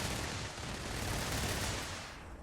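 Sustained gunfire in Starfield, heard as a dense, loud, continuous roar of shots for about two seconds that then fades slightly, with no voices over it.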